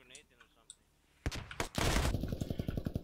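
Gunfire in the military shooter Squad: a quiet opening with faint voices gives way to loud sharp shots, then a dense burst of rapid automatic fire with repeated cracks in close succession.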